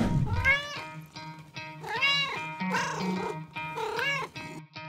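Cats meow and caterwaul in a series of drawn-out, wavering calls, about four or five cries close by with short pauses between them.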